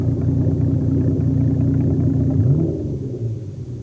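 A stripped-down open-top Jaguar XJ12 rumbles steadily nearby, a deep continuous low-pitched engine drone that eases slightly toward the end.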